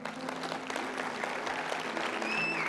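Applause from a church audience, a steady wash of many hands clapping throughout, fairly loud and continuous without speech.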